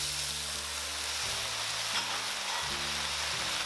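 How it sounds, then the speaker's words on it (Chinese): Chicken and bean sprouts stir-fried with ginger juice and garlic in a hot pan, giving a loud continuous sizzle with a brief clatter of tossing partway through. "再给它炒一下"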